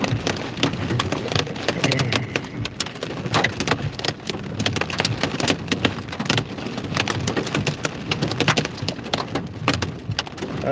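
Quarter-size hail hammers a car windshield during a Central Texas storm, a dense, loud, irregular barrage of hard clattering impacts over a rushing rain roar, with no talk.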